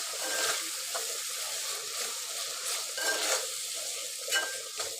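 Spiced minced keema frying in oil while being stirred in a pan, a continuous sizzle broken by soft scraping strokes every second or so, close and without talk.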